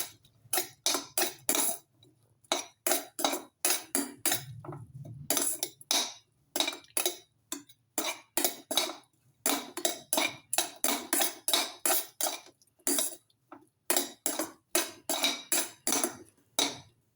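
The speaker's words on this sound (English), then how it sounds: "Salt and mix thoroughly." Metal utensils repeatedly clink and scrape against a bowl while cumin, egg, green bean and rice are stirred and mixed, a steady rapid rhythm of sharp taps with brief pauses, close and fairly loud, no talking.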